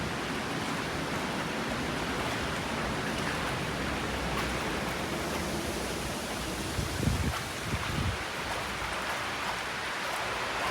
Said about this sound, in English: hear the water going through it? It's roaring.